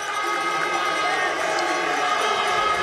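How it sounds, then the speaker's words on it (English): A dense crowd cheers and roars without a break in a cross-country ski stadium during the men's skiathlon, with a commentator talking over it. "back into the stadium complex, and the crowd has strengthened"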